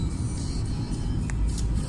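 A car on the road in Holland, heard from inside the cabin: a steady low engine and road rumble, moderately loud, with no talking.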